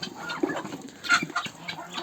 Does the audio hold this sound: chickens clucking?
yes